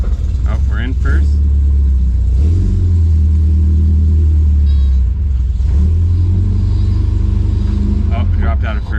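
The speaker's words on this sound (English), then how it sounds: "It's a little louder than normal because the muffler's rusted out" A long-idle MGB with a rusted-out muffler runs loud and rumbly, its low engine drone steady and close with surges as it revs and shifts, while people talk over it.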